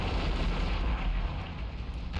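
Heavy explosions rumble during the final boss fight in Future Cop L.A.P.D., a deep, continuous booming roar with crackling bursts, loud and close, with no voices.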